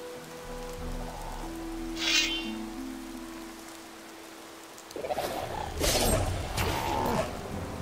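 Rain patters and hisses in the video game Gothic II with the Returning - New Balance mod, a soft steady wash that swells into heavier splashing bursts over the final few seconds.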